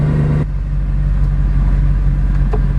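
A salvaged Mercedes C63 V8 idles loudly nearby, a deep, heavy rumble with a steady low throb that holds throughout, no voices over it.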